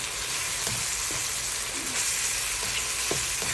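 Food frying with chili flakes in a hot pan sizzles steadily, with a few soft scrapes and knocks of stirring breaking through the continuous hiss at close range.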